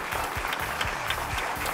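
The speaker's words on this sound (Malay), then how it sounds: "Berikan tepukan gemuruh sekali lagi." Short burst of steady audience applause at the televised finale of a Malaysian beauty pageant, celebrating the winner; even clapping at moderate level with no talk.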